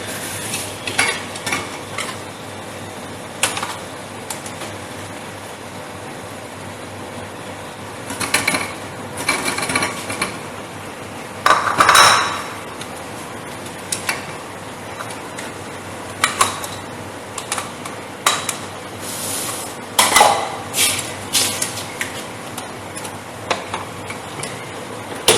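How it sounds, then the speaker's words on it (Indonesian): Cheesecake batter with butter is stirred in a bowl during a live baking demo, giving irregular close scraping, clinking and tapping strokes that come in bursts over soft background noise. "Aduk lagi sampai dia larut"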